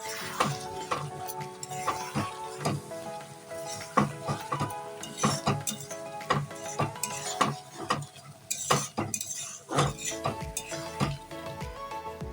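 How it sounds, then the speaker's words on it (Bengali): Mango pickle mixed with spice powder is stirred in a pan, with repeated close scrapes and metallic clinks from a spoon against the pan in an uneven rhythm and a faint sizzle underneath, without speech. "আমি এখন আরেকটু গুঁড়ো মশলা দিয়ে দিচ্ছি দিয়ে এবারে নাড়িয়ে চাড়িয়ে নেব"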